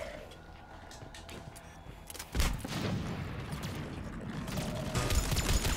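Grenade blasts and gunfire in Mass Effect 3 (Legendary Edition) combat: a sudden loud explosion midway, followed by dense, continuous rattling fire and rumbling that builds toward the end.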